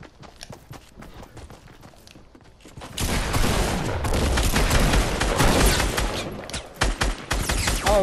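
Gunfire from a shotgun and other weapons in a battle royale duo squad video game. It starts as scattered clicks, then becomes a loud, dense volley of shots for several seconds with no talking.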